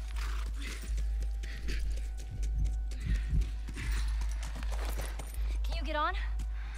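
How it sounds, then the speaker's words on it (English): Horse hooves clip-clop at a walking pace in The Last of Us game, a soft irregular patter under game music, with voices talking over it throughout. "Just get the horse."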